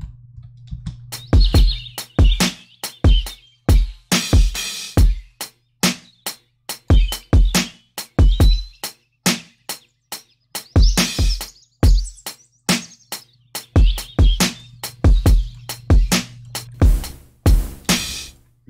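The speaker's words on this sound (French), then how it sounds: "Ça va des bruits d'oiseaux." Synthetic bird chirps from a noise preset on a That Thing multi-effect pedal, mixed with a dense run of sharp percussive knocks. A constant low hum sits beneath them.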